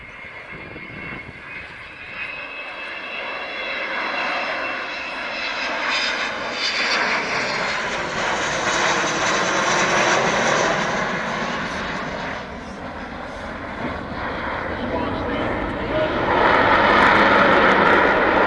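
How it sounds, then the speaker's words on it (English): Avro Vulcan XM607 jet bomber flying in over an airfield, a loud sustained engine roar that swells and shifts in pitch as the aircraft approaches and passes. "Vulcan XM607. Coming back in towards us now, flown from the left-hand seat today by Kev"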